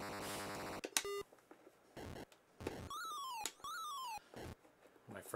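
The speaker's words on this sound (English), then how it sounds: "My friend is messaging me on my tablet. It keeps beeping over and over and over." Repeated electronic beeps and chirpy tones from a tablet message notification, sounding in short bursts and rising-and-falling sweeps, mixed with retro Atari 2600 homebrew game sound effects.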